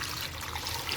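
Chicken feet broth pours into a pot of soup ingredients, a brief steady liquid splash and trickle, close and fairly quiet, with no talk.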